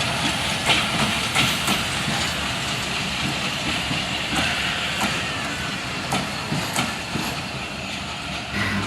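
A local mail train on the Khulna to Jessore line at Jessore Cantonment railway station gives a steady, loud rumble with a hissing wash and scattered clicks and knocks, with no voices.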